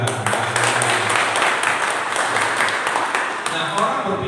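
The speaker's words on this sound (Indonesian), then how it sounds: "Tepuk tangan buat Tuhan." A church congregation at a sermon breaks into loud, dense applause, with many hands clapping together in a sustained wash that fills the room, and a voice speaks over it.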